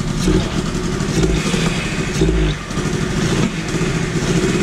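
A BMW 318 IS engine running steadily with a makeshift exhaust fitted, a close, loud rumble with a low pulsing idle and brief rises in revs, no talk over it.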